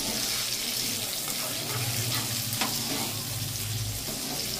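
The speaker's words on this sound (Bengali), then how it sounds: "তারপরে আমি পেঁয়াজ দেব" Garlic sizzles in a pan over raised heat, a loud, continuous crackling fry close up, with a faint watery wash and stirring beneath it.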